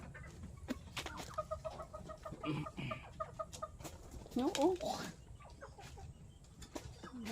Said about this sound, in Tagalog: Tinutuka ako ng isang tandang.